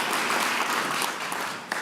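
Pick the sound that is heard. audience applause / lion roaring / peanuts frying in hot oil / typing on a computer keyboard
audience applause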